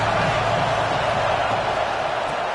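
A packed stadium crowd roars steadily at a Sooners college football game, a dense, continuous wall of cheering that holds at a loud, even level without pause.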